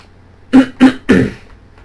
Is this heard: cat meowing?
no